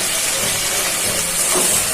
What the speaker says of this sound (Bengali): এখন নেড়ে চেড়ে ভালো করে চাউলটাকে মশলা দিয়ে ভেজে নিব